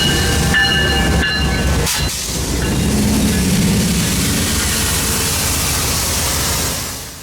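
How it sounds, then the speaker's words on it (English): Amtrak Silver Meteor train hauled by P-42 diesel locomotives arriving at DeLand station, a loud close rush of passing cars with a short horn tone early, fading at the end. "the Silver Meteor number 98 was coming in for a stop"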